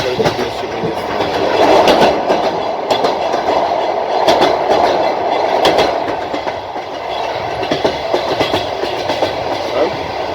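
Passenger train wheels clatter steadily over the rails on the Shevchenkovo-Yuzhne to Kharkiv stretch, heard from inside a carriage by the window, a loud continuous rumble with rhythmic clickety-clack joints throughout.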